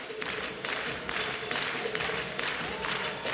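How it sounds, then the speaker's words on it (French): Crowd applause in an arena for French figure skater Brian Joubert during his footwork sequence, broad steady clapping throughout with rhythmic swells and no voices on top. "Ces séquences de petits pas sont particulièrement applaudies."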